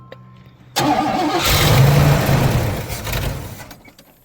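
A 1989 Oldsmobile Custom Cruiser wagon, with gas poured in to check for a fuel clog, cranks and fires up abruptly, its engine swelling to a loud rumbling run before easing back toward idle, close by.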